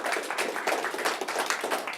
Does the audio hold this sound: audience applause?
yes